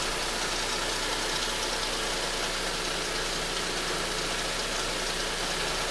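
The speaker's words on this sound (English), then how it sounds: "So here I have the engine running, and let's go ahead and get that voltage test." A 2005 Nissan Pathfinder's VQ40 engine idles with a new alternator fitted, giving a steady, even drone under broad hiss, with no talking.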